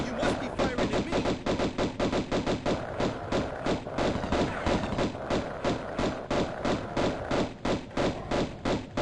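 Rapid gunfire in Tomb Raider 1996 Remastered, loud shots repeating in a steady, unbroken rhythm, like an automatic weapon firing continuously.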